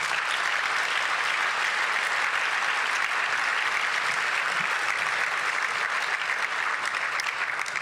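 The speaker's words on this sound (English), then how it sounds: "Thank you for that applause." Steady applause from a large audience at a homelessness action summit after a presentation, dense even clapping filling the room throughout with no voices over it.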